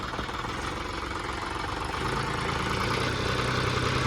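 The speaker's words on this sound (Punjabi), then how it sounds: "ਸਾਊਂਡ ਚੈੱਕ ਕਰ ਲਓ ਸੀ ਆ ਦੇਖੋ ਰੇਸ ਮਾਰ" A John Deere 5210 tractor engine runs steadily, then revs up and holds a louder, rougher drone from about halfway through, continuous and close with no talk.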